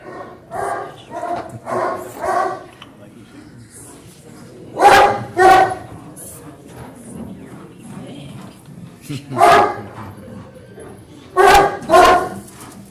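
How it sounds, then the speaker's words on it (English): A dog barks in repeated bursts outdoors, a cluster of three or four early on and then paired barks at intervals, fairly loud against a low background hum. "He was barking at me when I got out."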